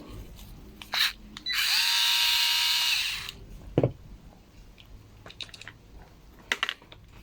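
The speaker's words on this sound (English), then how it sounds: "So remove this screw." A small power screwdriver whirs for about two seconds, close and fairly loud, while removing a screw from the carburetor of a Stihl FS36 string trimmer, with scattered clicks of handling the parts afterward.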